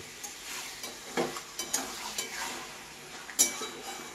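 Mutton head curry frying in a pan, a soft steady sizzle broken by scattered scrapes and clinks of a spoon stirring against the metal, close and fairly quiet with no talking.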